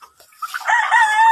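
A single loud rooster crow rises and holds, close by and clear.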